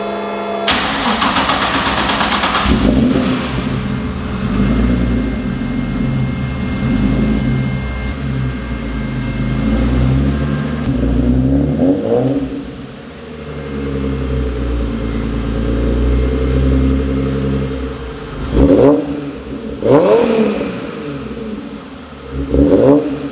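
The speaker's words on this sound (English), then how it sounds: "you can hear what it sounds like with the exhaust on" Nissan 350Z twin turbo engine with exhaust fitted, cranking and firing up close, settling into a loud rumbling idle with several sharp revs blipping throughout.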